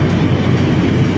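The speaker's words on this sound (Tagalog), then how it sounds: "Ayun, sakay ka munang LRT." LRT light rail train in motion, a loud steady rumble of wheels and carriage heard from on board, with no talking.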